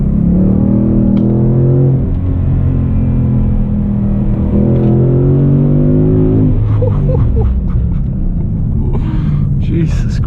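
A 2018 Ford Mustang GT V8 accelerates hard on a night drive, its deep engine note climbing steadily in pitch through a long gear, loud and close inside the cabin, then easing off as a voice exclaims.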